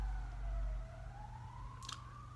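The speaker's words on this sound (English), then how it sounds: "Police sirens outside" A single police siren tone wails slowly in the distance outside, rising and falling gently over a low rumble of nearby engine noise.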